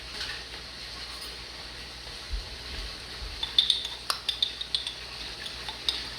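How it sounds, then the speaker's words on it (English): Spoon scooping frozen sweet corn out of a pot in a home kitchen, a quiet run of light metallic clinks and scrapes in a loose, uneven rhythm, close by with no talking. "I have to get a spoon to get it out"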